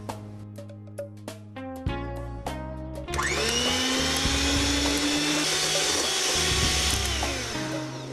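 Electric hand mixer whirring as it beats two egg whites to stiff peaks in a mixing bowl for mayonnaise, a loud steady motor drone with short bursts at first, then running continuously.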